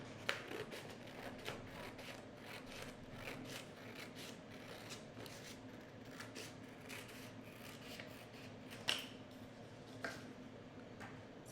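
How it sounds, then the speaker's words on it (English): Scissors snip through craft paper being trimmed to size for covering a can, a steady run of quiet rasping cuts with a few sharper snaps, close and alone with no talking. "So we'll go ahead and cut the extra off that I won't need."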